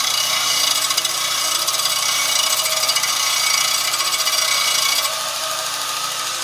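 Belt sander rounding over a sharp wooden corner, a loud continuous abrasive rasping hiss with steady motor drone, close up, easing slightly near the end with no talk.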